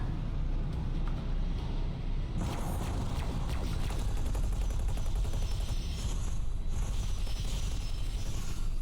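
Enemy turret fire in the space game X4 Foundations during a pirate Behemoth boarding fight: a continuous, dense barrage of rapid shots and impacts over a heavy low rumble, growing busier partway through, with no break.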